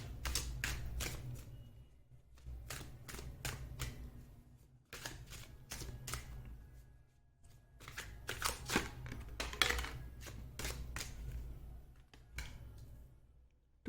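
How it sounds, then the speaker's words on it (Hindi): Tarot cards are shuffled close up in repeated bursts of crisp riffling and flicking, with short pauses between rounds and no talking. "मैं आपके सामने ही शफल करूंगी कार्ड्स"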